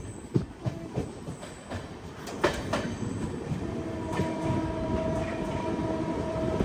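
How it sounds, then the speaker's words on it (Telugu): Secunderabad to Vasco da Gama bi-weekly express train running, a steady rolling rumble with rhythmic wheel clatter on the rails and a few sharp clanks, fairly close and continuous without speech. "ప్రస్తుతం మనం ట్రావెల్ చేస్తున్న ట్రైన్ ఉంది కదా, రీసెంట్ గా లాంచ్ అయింది కదా, సికింద్రాబాద్ టు వాస్కోడగామా."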